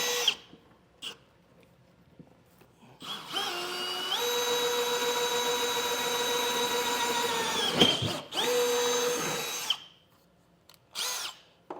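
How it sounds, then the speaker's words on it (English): A power drill whines steadily for several seconds while boring through metal for a fifth-wheel trailer hitch install, its pitch shifting as it bites, then stops; short bursts of drilling before and after, close and fairly quiet. "enlarge this and drill all the way through"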